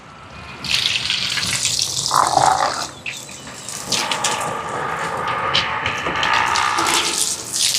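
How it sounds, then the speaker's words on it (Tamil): Water runs steadily from a tap, splashing and filling a container, with the pitch shifting as the level rises; no voices. "அளவுக்கு தண்ணியை நிறைச்செடுப்போம்"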